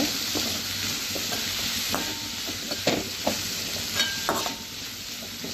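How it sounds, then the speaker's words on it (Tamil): Drumstick flowers cook with salt in a pan, a soft continuous sizzle under intermittent scraping and knocking of a spoon as the mixture is stirred and sautéed. "இப்போ இதில் தேவையான அளவுக்கு உப்பு சேர்த்துட்டு நல்லா நம்ம பார்த்தீங்கன்னா கலந்துக்கிட்டு நல்லா வதக்கி விட்டுக்கலாங்க"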